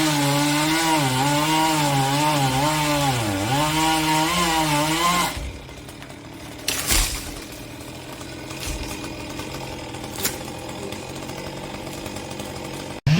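A chainsaw cuts through a tree trunk as the operator works his way down after felling, a steady loud engine whine with wavering pitch for about five seconds, then fades to quieter rustling and a few thumps of wood.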